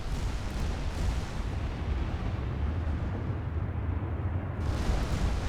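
Battleship high-explosive shells fire and burst in the naval game Ultimate Admiral: Dreadnoughts, a continuous loud rumble of overlapping booms and blasts that briefly thins before swelling again.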